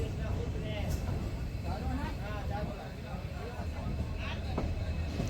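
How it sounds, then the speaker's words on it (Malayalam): A train departing Madurai Junction rumbles steadily with wheel clatter and a few squeals, while people talk in the background throughout. "കൃത്യസമയത്ത് തന്നെ മധുര ജംഗ്ഷനിൽ നിന്നും ട്രെയിൻ പുറപ്പെട്ടു"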